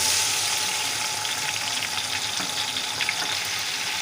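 Onions and tomatoes fry in a pan for aloo tahari with a steady, close, hissing sizzle. The sizzle holds even throughout, with no voices.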